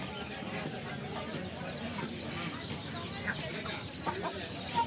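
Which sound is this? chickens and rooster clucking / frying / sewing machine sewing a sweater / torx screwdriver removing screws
chickens and rooster clucking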